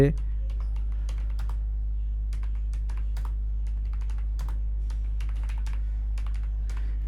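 Light, irregular key taps on a computer keyboard come in quick clusters and short pauses, close and fairly quiet over a steady low hum, while a person talks.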